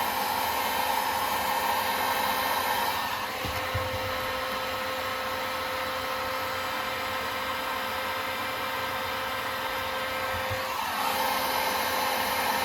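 A heat gun or hair-dryer-style blower runs steadily, softening years-old glue on a 2008 Apple Time Capsule, a loud continuous airy whoosh with a slight shift in tone partway through.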